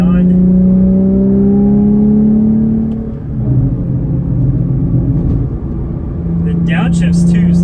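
A track-modified Porsche Cayman R engine revs high, around 4,000 to 5,000 RPM and beyond, loud and close, with a rising tone that drops off as the revs fall and then climbs again. Someone talks over it.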